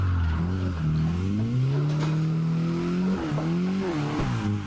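A Mazda MX-5 Miata's engine is held at high revs while drifting around a drift park, a loud, sustained droning tone that swells and dips in pitch with throttle changes, with faint tire noise underneath and no talking.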